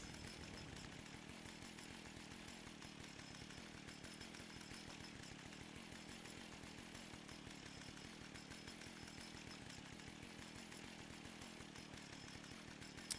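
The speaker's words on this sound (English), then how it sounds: "I'll put my chainsaw away." A chainsaw in the Fallout 76 video game runs steadily for the whole stretch with a rapid, buzzing engine pulse, loud and close, with no talking.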